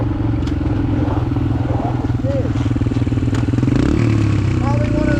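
Dirt bike engines revving at a gravel pit, a loud close buzzing drone that rises and falls as the bikes ride over the gravel, with occasional clatter and people talking over it.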